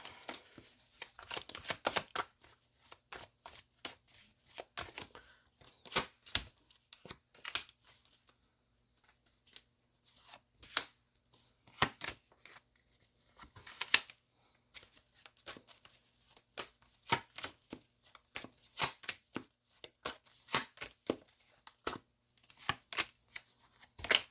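Tarot cards shuffled by hand in a quiet room, a long run of quick papery riffles and soft slaps that come in irregular bursts, close and fairly light, with no one talking.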